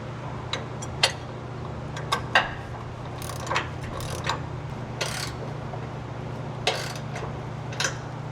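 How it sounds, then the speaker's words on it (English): A hand ratchet with a 15mm socket tightens a sway bar bracket bolt on a Ford Raptor, giving a series of sharp metallic clicks and clatters at irregular intervals over a low steady hum. "Now I'm going to use my ratchet with the 15mm and hand tighten that first"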